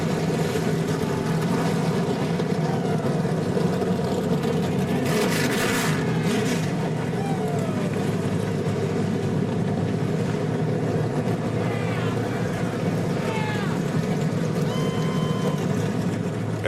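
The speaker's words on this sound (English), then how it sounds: "And the engines have fired" Race truck engines fired up and revving together at Eldora Speedway, a dirt track, a dense continuous roar that stays loud the whole time, with a few brief higher whines rising above it.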